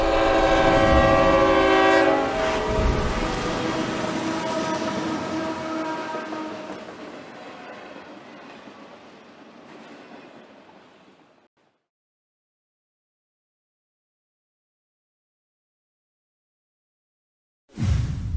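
A train blasts its horn loudly up close, then rumbles past and fades away into silence before a sudden noise at the very end.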